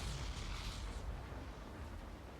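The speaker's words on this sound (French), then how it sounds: "Bon, il y a du tonnerre par contre." Thunder in the rainy video game Rain Code, a faint, broad rolling rumble that swells briefly near the start and then fades into a low, steady wash, heard alone.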